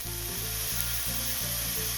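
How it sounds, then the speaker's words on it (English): Onions and shallot sizzle steadily in a hot pot, with a fork turning them through the fat in a few soft scraping strokes under a constant frying hiss. "just start turning that around with the fork in the pot so it can get some flavor from the onions and the shallot"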